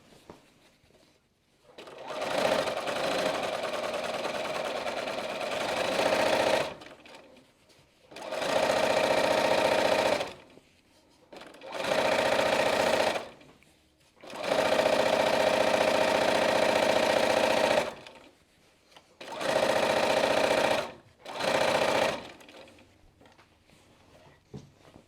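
A sewing machine stitches fabric for a pillowcase in repeated bursts of several seconds each, a close, steady mechanical whir separated by short pauses.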